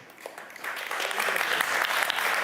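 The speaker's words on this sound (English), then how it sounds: "Claps for recorded." Conference crowd breaks into applause, starting sparse and quickly swelling into full, steady clapping that holds to the end.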